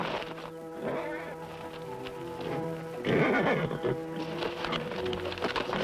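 A horse in pain whinnies and snorts amid the clatter of hooves on a western TV series set, with a music score running underneath and no clear talk.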